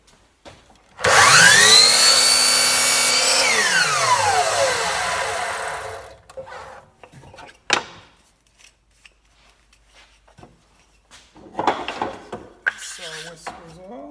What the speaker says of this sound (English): So I'm just going to cut in the middle of this piece